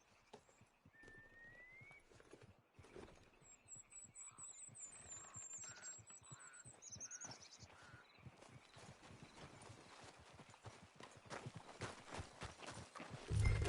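Horse hooves clip-clopping in Red Dead Redemption 2, a steady run of rapid close hoofbeats that grows denser and louder toward the end, with a brief neigh and faint chirps early on.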